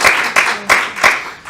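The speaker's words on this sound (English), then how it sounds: "A big round of applause." An audience at a religion and politics event applauding in several rhythmic surges of clapping, close and fairly loud, with no talk over it.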